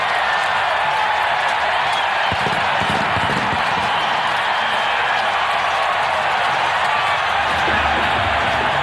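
A dense, steady roar from a huge stadium crowd at the Super Bowl between the Cowboys and Steelers, sustained and loud throughout without a break.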